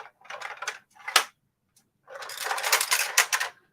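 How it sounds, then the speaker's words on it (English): Loose screw rattling inside the shell of a plastic Gundam GP03S Dendrobium model kit, giving rapid clustered clicks and tinny rattles in bursts, a sharp knock, then a longer shaken rattle, close and clear with no talking. "I can hear it rattling around in there."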